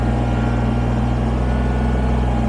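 Kubota BX23S compact tractor engine running at a steady idle, a constant low droning hum with no change in pitch and no talk over it.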